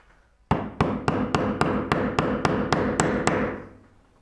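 A mallet strikes a chisel in woodworking, about twelve crisp, evenly spaced knocks heard close and loud, each ringing briefly before the next.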